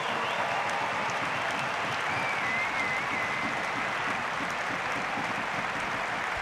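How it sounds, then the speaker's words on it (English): Steady stadium applause during a German women's football match between Germany and Spain, broad even clapping from a distant crowd with no voices standing out. "A moment of applause,"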